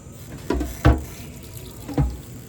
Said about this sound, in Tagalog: Tapos lagyan natin konti ng tubig